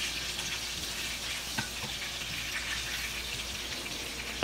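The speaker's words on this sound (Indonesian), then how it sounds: "kita goreng tempe ini" Tempeh fries in a pan, giving a steady crackling sizzle throughout with a few sharp pops and a clatter near the end.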